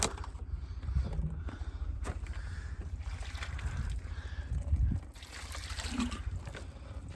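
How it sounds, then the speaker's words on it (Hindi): Water poured from a bottle trickles and splashes in uneven spurts against faint background noise, with a brief gurgle partway through. "हम इससे डाल दें पानी"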